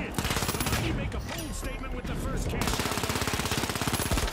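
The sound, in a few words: M11 gunfire in the video game The Finals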